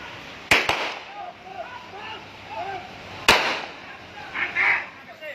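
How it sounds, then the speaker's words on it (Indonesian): Gunshots ring out during a police chase at a highway toll exit: three sharp cracks, two close together near the start and one more later, over traffic noise, with voices talking and shouting around them. "Suara tembakan terdengar berulang kali."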